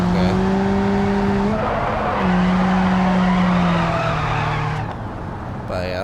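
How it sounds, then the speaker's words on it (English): Front-wheel-drive Honda in BeamNG Drive skidding as its front tires break loose in a turn, a loud sustained tire squeal over a droning engine, rising and sliding in pitch, then easing off near the end. "Whenever I turn, those front tires seem to break loose."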